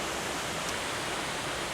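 Waterfall pouring through the arch of a bridge in autumn, a loud, steady broadband rush of falling water, close and unbroken.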